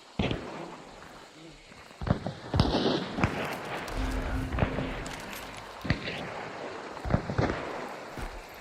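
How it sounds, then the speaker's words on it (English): Several gunshots from a sniper rifle and a heavier rifle in a video game, sharp separate cracks spread across the stretch over low background noise and faint movement. "It sounded like there was a sniper, one heavier rifle, then one regular."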